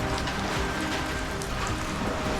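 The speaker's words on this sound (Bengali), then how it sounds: "কী স্পিডে বৃষ্টি হচ্ছে।" Heavy rain pours down in a dense, constant roar of drops drumming on nearby surfaces, loud and unbroken throughout with no voices.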